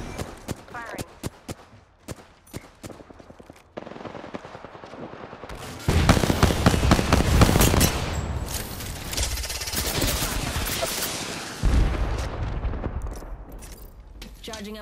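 Bursts of automatic gunfire in the Apex Legends battle royale video game, with a sparse stretch of shots giving way to dense, loud volleys and continued firing to the end.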